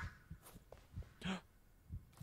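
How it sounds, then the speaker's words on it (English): A faint, low heartbeat from the Blair Witch video game pulses in soft, regular thumps, quiet and close, with little else around it. "I hear a heartbeat."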